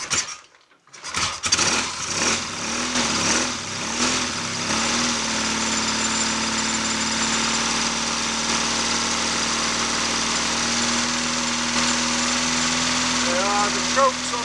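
A Triumph Bonneville motorcycle engine with McCuneys carburetors on choke fires up after a brief crank and settles into a steady, loud fast idle with no throttle, running continuously close by.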